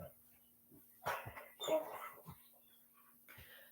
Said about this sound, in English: My dog is in the background.